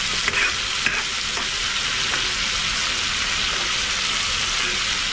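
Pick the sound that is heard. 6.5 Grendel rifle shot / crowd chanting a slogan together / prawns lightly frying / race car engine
prawns lightly frying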